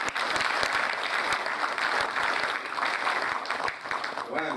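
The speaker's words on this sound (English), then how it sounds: "That is not the way to clap, that is the way to clap." Dense audience applause at a dentistry faculty scientific conference, many hands clapping steadily with a few sharper claps standing out, continuous and fairly loud, with a voice speaking faintly over it.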